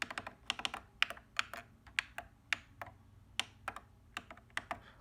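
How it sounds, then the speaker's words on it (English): Volume keys on a mechanical keyboard clicking in a quick, irregular series of sharp, close taps, with no one talking. "listen to this click on the volume keys."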